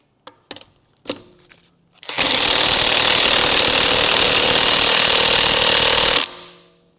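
A Lidl Parkside cordless impact gun: a few short taps, then a loud, continuous harsh rattling hammer for about four seconds that stops abruptly, heard close with no speech.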